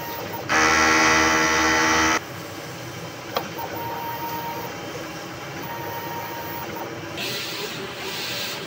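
Inkjet printer running a print head cleaning cycle, with a loud mechanical buzz of about two seconds, then a quieter steady hum with faint clicks and a brief rise near the end.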